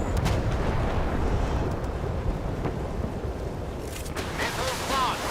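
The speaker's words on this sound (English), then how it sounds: "Missiles launched." Deep, continuous rumbling blasts as a warship fires missiles in the naval combat game Force of Warships, loud and dense throughout, with a brief whooshing streak near the end.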